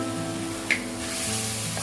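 Cashew paste hits a hot pan and sizzles with a soft, steady hiss, broken by one brief sharp click near the start.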